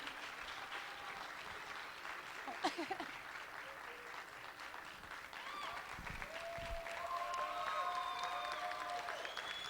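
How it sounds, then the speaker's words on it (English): Audience applause at a scholarship pageant after a new Miss Outstanding Teen is crowned, a steady wash of clapping with some cheering that swells toward the end, carrying faint tonal music beneath. "let's give her a big round of applause"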